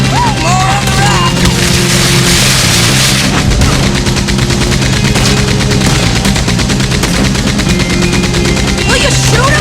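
Loud, sustained gunfire from the Red Dead Redemption 2 video game: rapid overlapping shots and bursts fill the whole stretch, with brief shouted voices and music beneath.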